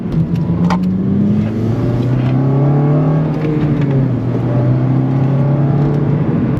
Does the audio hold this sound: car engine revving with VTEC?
yes